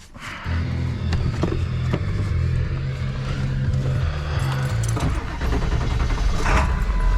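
A vehicle engine turns over and catches near the start, then settles into a loud, steady, low rumbling idle that runs close by for the rest of the clip with small shifts in pitch, and no one speaks.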